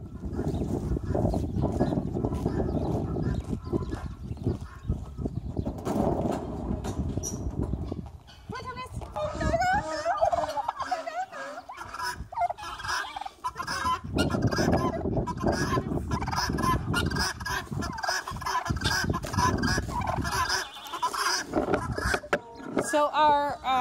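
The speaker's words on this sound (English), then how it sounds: "Second thing we're going to do is let the birds out." Poultry let out of a garage on a small farm: turkeys, geese and other fowl gobble and honk loudly and continuously, close by and overlapping, with people talking at times beneath the flock.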